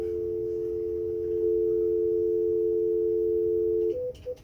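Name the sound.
telephone dial tone while calling a phone number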